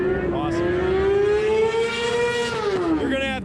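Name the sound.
motorcycle engines at a stoppie competition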